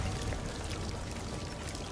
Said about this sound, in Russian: Вода льется откуда-то.